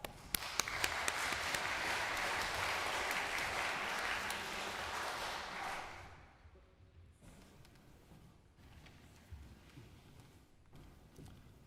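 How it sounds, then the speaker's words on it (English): An audience gives a class of students a round of applause at a cultural arts festival, loud steady clapping that fades out after about six seconds into quiet room noise with a few scattered claps. "Let's give them a big round of applause"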